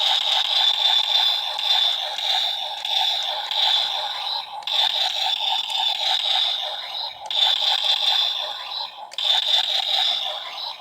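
A Power Rangers Time Force Quantum Defender toy blaster makes a harsh, buzzing electronic firing noise, repeated in steady bursts of about two seconds each, loud and close with no talking.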